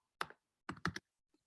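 Close, brief bursts of typing on a computer keyboard, first one short burst and then a quicker cluster of clicking keystrokes, with quiet gaps between them.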